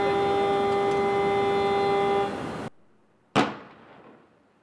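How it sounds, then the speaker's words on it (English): Small explosive device set off by ATF agents to dismantle a tripwire at an apartment in Aurora, Colorado: one sharp distant bang with a decaying tail, following a steady tonal hum that fades into quiet. "That was the sound of ATF agents setting off their own explosive device designed to dismantle the tripwire"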